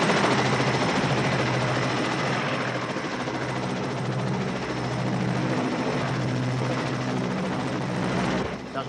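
A helicopter flies close overhead, its dense rotor chop and turbine roar loud and steady for nearly nine seconds before dropping off abruptly at the end.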